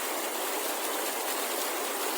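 A river flows in an off-grid riverside spot, a dense, steady rushing wash of water that stays loud and unbroken throughout.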